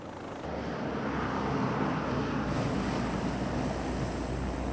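Aircraft noise at Camp Bastion, a large military airbase in Afghanistan with a busy runway, heard as a loud, steady broadband roar that swells in at the start and holds throughout.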